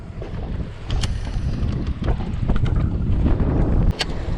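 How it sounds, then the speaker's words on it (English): Loud, blustery wind buffeting the microphone in rough rushes, with a constant roar and occasional thumps. "It's gotta be gusting 30, 35. It's like knock you off your feet wind."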